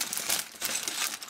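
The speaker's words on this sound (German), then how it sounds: "Packen wir Tüte Nummer 1 aus." A plastic Lego BrickHeadz parts bag being torn open and handled, close crinkling rustles with small pieces rattling, all within a second or so.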